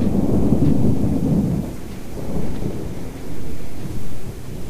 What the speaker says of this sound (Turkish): Ula, kum fırtınası hakikaten.